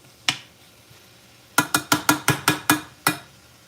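Metal spoon or spatula scraping and clinking in a pan of cooking poha, one tap then a quick run of about seven sharp clinks, close and fairly loud, with no talking.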